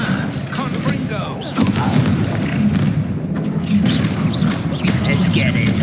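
Confringo blasting spells from Hogwarts Legacy burst in a continuous rumbling barrage of booms and crashes, loud and dense throughout, with game voices and effects layered underneath.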